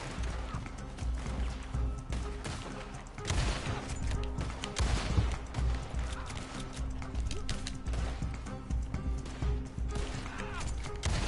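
Gunfights in the western video game Red Dead Redemption 2, with dense, continuous shots and clatter mixed with horse hooves and a whinny, all at a steady busy level. Talk is faintly present.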